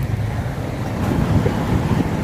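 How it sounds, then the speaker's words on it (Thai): Fast-flowing flood water rushes loudly and continuously across farmland near a damaged road, with heavy low rumbling turbulence and wind buffeting the microphone. "นี่กลายเป็นแม่น้ำและน้ำเชี่ยวค่อนข้างเชี่ยวด้วย"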